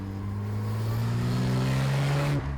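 Road-legal Lister Knobbly sports car, a raw design based on a 1958 racer, its engine humming steadily up close before the note drops away abruptly near the end.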